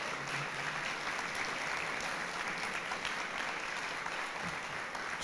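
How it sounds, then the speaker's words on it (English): A crowd at a guide dog graduation applauds the staff, a dense, even wash of clapping holding steady at moderate volume for the whole stretch with no talk on top. "How about a big round of applause for you guys?"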